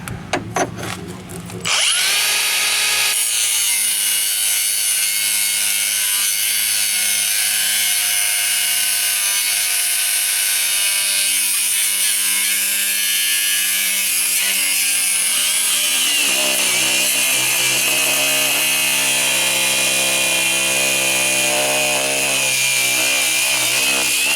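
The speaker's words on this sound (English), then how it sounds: "the only thing that we are using is a cutting wheel on a grinder" Angle grinder with a cutting wheel slicing through the steel door of a 1999 Jeep XJ, a loud, close, sustained high-pitched whine that shifts pitch partway through as the wheel bites into the metal.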